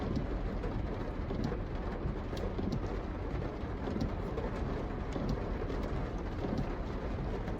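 Steady, heavy rain pours down close by, a dense continuous hiss and patter with no break, filling the whole stretch without any talking over it.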